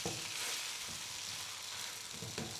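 An oats dosa cooks in a little oil on a pan with a soft, even sizzle. The quiet hiss holds steady the whole time, with faint crackles and no voices.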